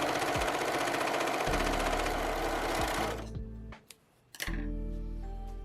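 A sewing machine runs fast and loud along the side seams of a recycled nylon swimsuit, whirring steadily up close for about three seconds, then slowing, pausing briefly and starting again.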